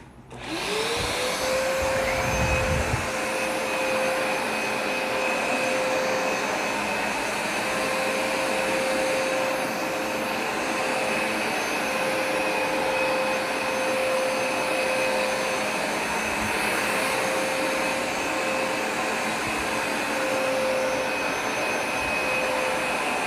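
A Hoover Smartwash Pet carpet cleaner starts up and runs loud and continuous on upstairs carpet, its steady motor whine and suction roar holding throughout with no talking.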